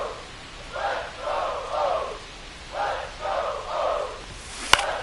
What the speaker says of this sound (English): You can see the crowd. They're starting to get into it a little bit more and more each pitch